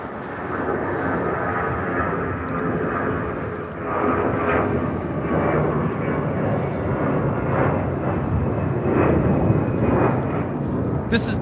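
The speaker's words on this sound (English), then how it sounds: "2120 taking off to Las Vegas on an A319." A Delta Airlines Airbus A319 bound for Las Vegas takes off at LAX with a steady, moderately loud jet roar that rises slightly partway through and continues unbroken, with no voices over it.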